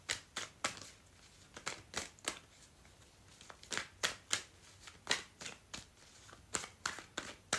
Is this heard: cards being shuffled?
yes